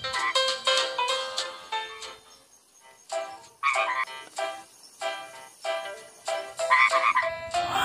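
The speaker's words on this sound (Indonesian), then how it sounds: "Lihat, ada katak di sini." Green frogs croak in repeated bursts, some close together and some set apart, loud and near with short pauses between them and no voices.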